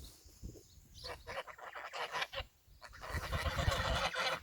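Farm yard geese honking in irregular bursts, a cluster of loud calls from several birds close by, with short pauses between calls.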